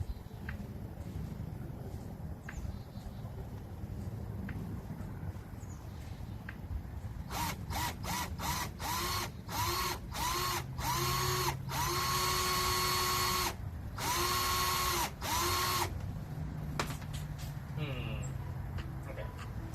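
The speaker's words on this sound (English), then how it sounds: "I gotta drill one hole and then drill in a circle." A power drill bores holes during a van rebuild, running in a series of short bursts followed by longer sustained whirs with rising pitch, close and loud, with a voice talking over parts of it.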